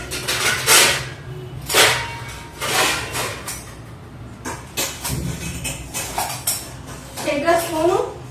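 Plates and spoons being gathered and carried in a home kitchen, with repeated clattering clinks of dishes and cutlery up close while people talk nearby.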